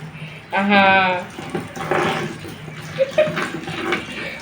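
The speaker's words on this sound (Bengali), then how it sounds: "ভেন্টি ধুয়ে দিচ্ছে" A tap runs while a pot is washed, with a burst of water splashing early on and then softer running and clinking under people talking.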